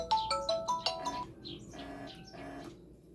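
A smartwatch rings for an incoming Bluetooth call, a bright melodic ringtone of quick chirping tones and short pulsing notes, clear and close, with no talking.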